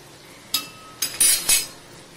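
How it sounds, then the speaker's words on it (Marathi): A spoon stirs whole cumin and coriander-cumin powder in a pan for a Khandeshi green chili dish, giving a few sharp metallic clinks and scrapes spaced apart over quiet background. "तेही आता आपण मस्त परतून घेऊया"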